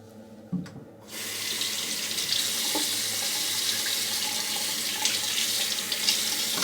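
Running water rinses a car without soap, a steady close hiss of spray starting abruptly after a brief clunk and continuing evenly to the end, with no talking.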